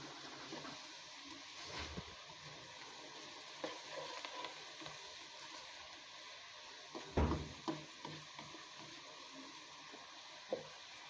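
Onions frying to golden brown for Kabuli pulao, a quiet, steady sizzle with intermittent spoon scrapes and a few louder knocks against the pan, heard without any voices.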